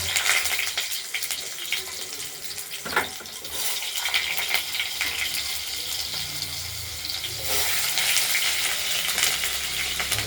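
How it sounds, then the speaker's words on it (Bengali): Potatoes fry in hot oil after a tempering of dried red chilli, bay leaf and cumin, giving a continuous bright hiss that holds steady throughout. "এবার আলুগুলোকে আমরা ভেজে নেব"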